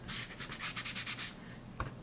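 A sponge rubbed over embossed cardstock in a series of quick, dry scrubbing strokes, close and soft, with a brief light tap near the end.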